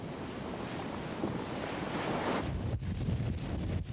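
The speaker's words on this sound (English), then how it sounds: "Heavy surf pounding against the growing shoreline may shatter and tear the Pahoehoe" Heavy surf pounds against a new pahoehoe lava shoreline at Kilauea, Hawaii, a loud, continuous roar of breaking waves with gusty wind buffeting the microphone.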